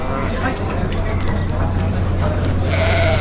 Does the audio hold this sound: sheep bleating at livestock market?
yes